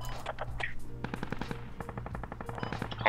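Gunfire rattles in the video game Squad, rapid bursts of automatic fire alongside a few heavier single shots, moderately loud and continuous over a low background rumble.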